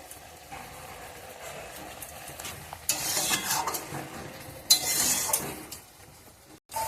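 Fried prawns stirred into a poppy seed paste in a pan, heard as soft scraping and stirring with light sizzling and a few utensil knocks, louder bursts midway, close and without talk.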